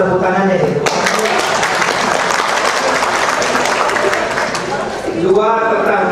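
Crowd applause at a year-end police press conference in Indonesia, a broad sustained wash of clapping from many people filling most of the stretch, with a voice speaking before and after it.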